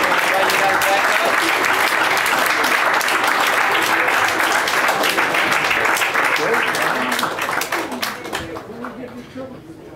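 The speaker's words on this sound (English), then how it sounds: "if we could have one round of applause for all the poets who are on the stage tonight" Sustained, loud audience applause for poets on stage at an evening poetry event, dense clapping that carries for several seconds before thinning and fading out.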